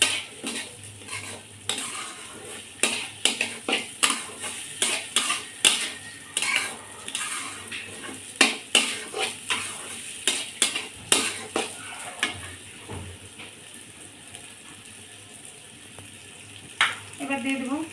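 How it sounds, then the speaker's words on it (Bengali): Rice and lentils for a thin mango khichuri are stirred and lightly fried with turmeric in a pan, a spoon scraping and clinking steadily in uneven strokes over a soft sizzle, close and fairly loud. "দিয়ে সুন্দর করে একটু নেড়ে চেড়ে হালকা একটু ভাজা ভাজা করে দেবো"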